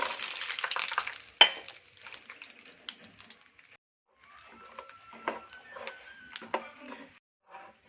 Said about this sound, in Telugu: ఇప్పుడు కొద్దిగా పల్లీలు వేయించుకున్నాము